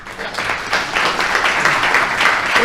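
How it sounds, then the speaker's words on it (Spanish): Audience at the opening session of an international relations congress giving a loud, sustained round of applause, dense clapping that swells and holds steady for a few seconds, close and full. "los homenajeamos con un fuerte aplauso"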